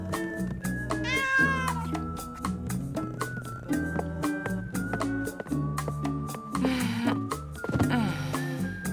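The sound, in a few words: cat meowing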